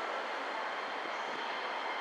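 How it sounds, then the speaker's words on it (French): A Keisei line train bound for Narita airport passes near Ueno station, a steady, fairly distant rolling rumble of rail cars that holds throughout. "Là, c'est la ligne Keisei, un train qui va à l'aéroport de Narita."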